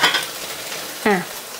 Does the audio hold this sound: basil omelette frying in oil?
yes